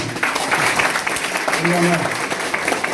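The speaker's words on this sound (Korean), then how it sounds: "네, 박수 한번." Clapping from an audience at a party election committee disbanding ceremony in a conference room, steady applause mixed with a speaking voice.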